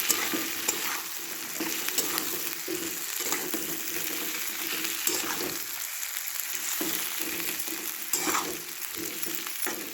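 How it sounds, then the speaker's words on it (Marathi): Stuffed brinjal and potato fry in hot oil as they are stirred, giving a steady dense sizzle broken by repeated scraping strokes of a spatula across the pan, close and continuous with no talk. "ते वांगे बटाटा सगळं ॲड करायचं त्याच्यामध्ये आणि परतवून घ्यायचं व्यवस्थित तेलामध्ये"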